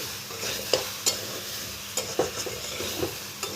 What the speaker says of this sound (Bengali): বেশ খানিকক্ষণ এখানে আমগুলোকে একটু ভেজে নিচ্ছি